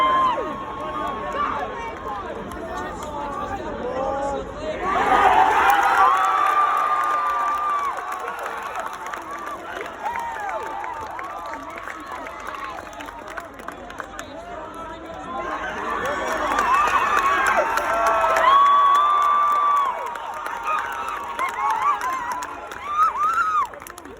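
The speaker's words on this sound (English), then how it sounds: "This is everybody cheering when Max Verstappen broke down." Crowd at the 2024 Australian Grand Prix cheering and shouting as Max Verstappen's car breaks down, the roar swelling in two loud bursts with murmuring chatter between them.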